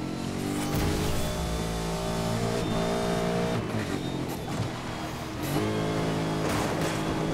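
Bentley race car in a Need for Speed Most Wanted (2012) sprint race, engine droning loudly and continuously with shifting revs and brief tire squeal, game music layered underneath.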